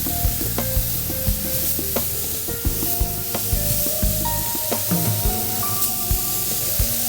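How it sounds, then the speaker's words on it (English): Steady crackling sizzle of about eight burgers on a hot charcoal grill, with scattered clinks and scrapes throughout; fairly loud and close, no talking. "these burgers here, you can hear them sizzling as I put them on"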